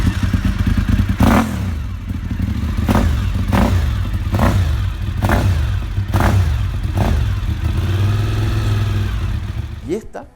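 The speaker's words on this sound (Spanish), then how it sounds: "El sonido de esta moto es una cosa realmente alucinante." A Bimota motorcycle engine revs hard in repeated sharp bursts over a steady loud idle rumble, close by, with a final quick rev at the end.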